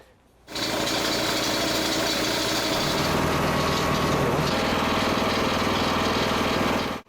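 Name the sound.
power tools removing bolts to change stump splitter blade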